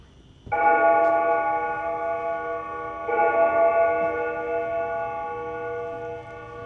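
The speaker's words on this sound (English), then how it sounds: "The Windsor bell hath struck 12." A stage bell strikes twelve: two loud, sustained tonal strikes, one at the start and another about two and a half seconds later, each ringing out with long, rich overtones like a large bell.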